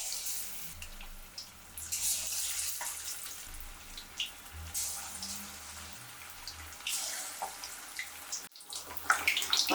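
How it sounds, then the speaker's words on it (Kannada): Egg bonda frying in hot oil, a soft, fairly quiet bubbling sizzle that rises and falls over several seconds, with a few faint clinks near the end. "ಒಂದು 5 ನಿಮಿಷ ಚೆನ್ನಾಗಿ ಎಣ್ಣೆಲ್ಲೇ ಫ್ರೈ ಮಾಡ್ಕೋಬೇಕು"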